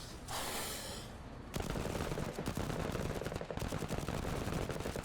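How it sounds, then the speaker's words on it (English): Machine gun bursts in the video game Menace, loud rapid automatic fire running steadily after a brief lead-in of hissing noise, with no talking. "And fire away with the machine gun"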